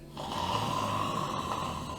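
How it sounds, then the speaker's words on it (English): A loud, steady snore drones on continuously, close and rough, with a low rumbling buzz under a nasal whine and no talking over it. "you can hear really loud snoring"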